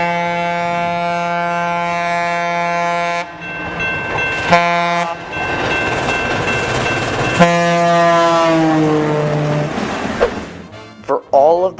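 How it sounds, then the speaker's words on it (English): Southern Pacific 4449 locomotive blaring its Leslie A200 air horn, nicknamed the Foghorn: a loud, deep sustained blast, then noisy rumbling and a second long horn note that fades out with clatter. "a Leslie A200 nicknamed the Foghorn."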